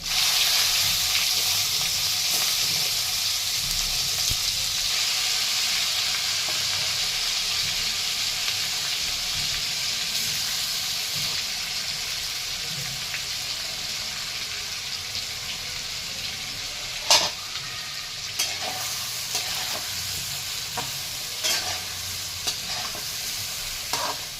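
Brinjals tossed into hot spiced oil with bay leaf and curry leaves, a steady loud sizzle and frying hiss throughout with scraping stirring strokes and a few sharp clinks of the spoon near the end.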